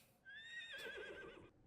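A horse in the survival game Icarus gives a single loud, close whinny: a rising squeal that wavers and then tapers off over about a second, with no talk over it.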